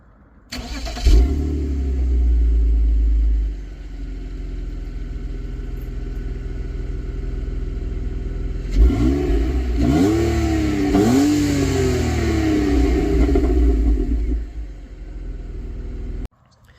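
BMW E39 with a loud aftermarket exhaust starts, settles into a deep steady idle, then is revved in several sharp rising blips before dropping back to idle, heard up close without talk.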